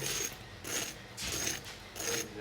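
Fried eggs crackle and crunch in bursts, four short rough flurries with brief pauses between them, close and fairly quiet.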